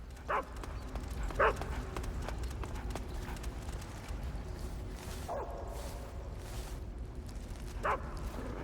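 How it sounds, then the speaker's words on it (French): A dog in the stealth game Metal Gear Solid 3: Snake Eater gives several short, sharp barks spaced irregularly over steady background ambience, fairly close and moderately loud, with no talking. "le chien il m'a suivi. Il est intelligent le chien"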